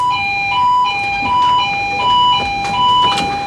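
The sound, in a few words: ship fire alarm sounding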